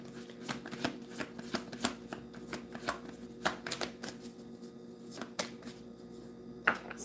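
Tarot cards handled and shuffled at close range, a steady run of crisp riffling flicks and soft taps with a low hum behind it.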